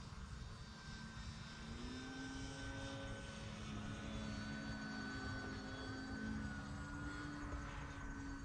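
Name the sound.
E-Flite radio-controlled model plane flying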